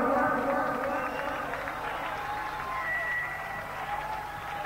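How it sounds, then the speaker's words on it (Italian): Audience applause at a live event for Domina and Paolo Chighine, broadband clapping that stays steady throughout with crowd voices mixed in. "Facciamo un applauso"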